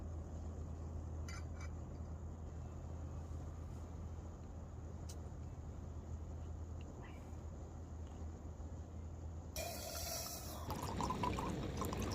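Water poured into a pot on a camping stove at a lakeside camp, a continuous low rushing flow over a steady hum that swells louder near the end.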